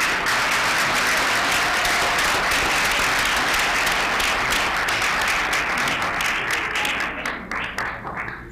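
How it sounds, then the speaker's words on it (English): A crowd at a Brownsville, Texas city commission meeting cheers and applauds loudly and steadily for a proclamation honoree, the dense clapping staying strong before thinning out near the end. "He brought his cheering crowd with him"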